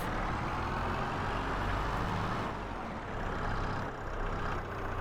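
A tractor engine in Farming Simulator 22 rumbles steadily and loudly, with a heavy low drone running throughout and slight dips in level partway through.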